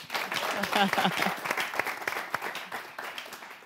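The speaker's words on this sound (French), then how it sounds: "D'abord, applaudissez pour vous-même." Audience applause at a pageant semi-final, a steady crowd of clapping at moderate distance with voices mixed in underneath.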